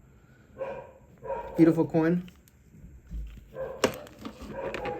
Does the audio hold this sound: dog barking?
yes